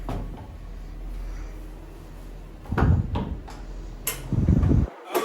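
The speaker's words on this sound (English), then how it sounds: "It does have a little bit of catch when you first start opening it." A hotel room door at a Disney resort is opened and closed, giving a few distinct thumps and latch clicks against a steady room hum, with no talk.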